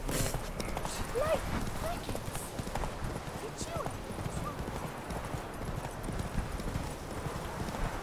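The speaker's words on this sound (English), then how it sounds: "Whoa there, Roach" Horse hooves trot in The Witcher 3, a steady, close clip-clop running throughout with an occasional whinny, while voices talk over the gait.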